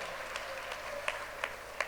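Scattered handclaps from a comedy show audience, a few sharp claps standing out over a thin, quiet patter rather than full sustained applause.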